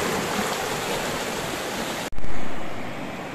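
A river runs past a campsite at Kampung Beswok, Pos Yum, near Sungai Siput in Perak, giving a loud, steady rushing wash with a brief dropout and renewed surge partway through.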